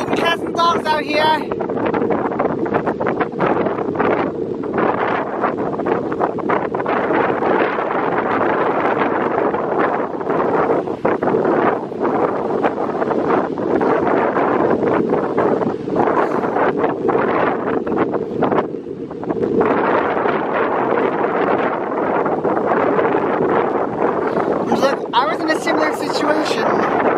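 Strong gusting wind roars and buffets the microphone continuously on a beach at Waikoloa Village, loud and close, with a voice faintly heard beneath the rushing noise.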